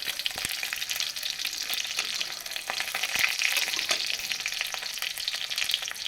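Two dried red chilies, two green chilies and a spoonful of panch phoron sputter in hot oil, giving a dense, continuous sizzle with scattered small pops throughout.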